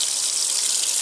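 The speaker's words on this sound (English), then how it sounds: "It's filling with cold water." A 1996 Maytag Dependable Care Plus washing machine fills with cold water, a steady hissing rush of water pouring into the partly full tub with no break, close and even throughout.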